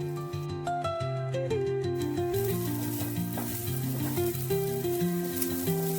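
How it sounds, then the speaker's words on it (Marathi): Rice frying in ghee in a pan for coconut-and-jaggery narali bhaat gives a steady sizzle with soft stirring beneath prominent melodic background music, continuous throughout. "आता हे तांदूळ हलक्या हाताने तुपामध्ये परतून घेऊया."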